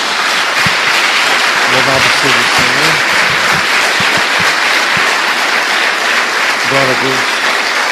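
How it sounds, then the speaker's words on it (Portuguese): Applause from a church congregation at a Portuguese-language service fills the room as a continuous roar of clapping, while someone speaks briefly over it near the start and again near the end. "Dê uma salva de palmas a Jesus."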